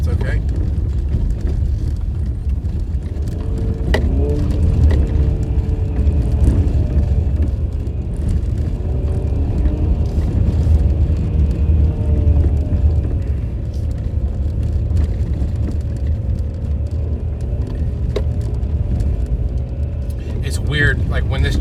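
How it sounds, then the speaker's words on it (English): Jeep engine pulling steadily while driving at speed, locked in a high gear, a continuous low rumbling drone with road noise that holds even and loud throughout, with a voice talking over it. "when this Jeep gets into a high gear, like you're actually going with speed, it will not let go of that gear"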